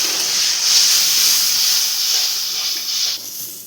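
Water poured into a pan of frying mustard, chilli and cumin paste sizzles with a loud, steady steam hiss that holds near and close for the whole stretch, easing slightly toward the end.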